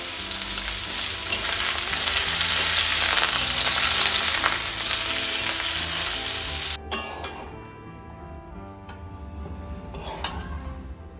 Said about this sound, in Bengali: আদা রসুন টমেটো লঙ্কা এগুলো একটা পেস্ট বানিয়ে নিয়েছি। এটাকে ভেজে নিয়ে রান্নাটা শুরু করে দেবো।